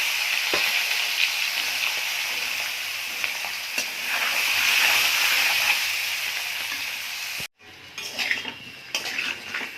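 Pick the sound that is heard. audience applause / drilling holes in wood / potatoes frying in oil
potatoes frying in oil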